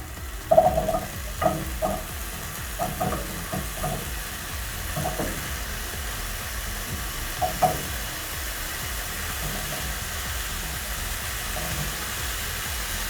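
Potatoes already coated in oil frying in a pan, a steady close sizzle with occasional stirring scrapes and crackles, no talk.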